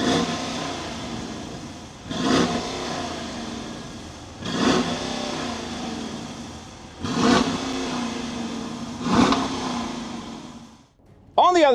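A 2023 Dodge Durango RT with the 5.7 liter V8 revs four times in a row, each blip rising then settling back to a steady idle, loud and close, with a brief squeal at the end.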